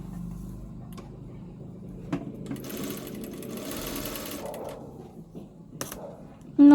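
A sewing machine stitches a blouse sleeve in a rapid mechanical whir that starts and stops in short bursts, with a light click at the end and no talk.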